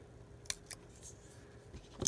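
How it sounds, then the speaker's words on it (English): Scissors snipping around the edges of paper for a craft project: a few quick, crisp close-up cuts, then a sharper snip at the very end, over a quiet room. "I'm just going to cut around the edges."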